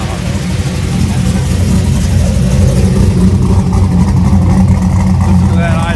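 A loud Chevrolet Camaro idles at a crowded car meet, giving a deep, steady, throbbing exhaust rumble that holds unbroken from start to finish.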